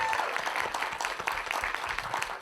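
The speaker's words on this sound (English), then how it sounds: "So one more round of applause for the filmmakers." Audience applause for filmmakers at a youth film screening, a brief, moderately close patter of clapping from a small crowd.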